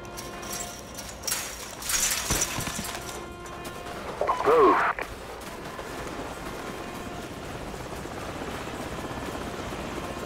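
Enemy helicopters in the Call of Duty 4: Modern Warfare video game rumble steadily beneath a few sharp crashes and impacts, with game dialogue earlier in the clip.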